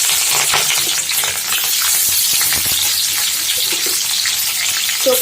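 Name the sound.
onion frying in oil in a kadai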